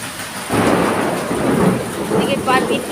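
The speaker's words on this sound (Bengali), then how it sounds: "এত পরিমাণে বৃষ্টি হচ্ছে সব ভেসে গেছে চারিদিকে" Heavy rain pours over a flooded neighbourhood in Ram Thakur Colony, Jadavpur, Kolkata, a loud, dense, steady roar of downpour that starts abruptly and continues close by.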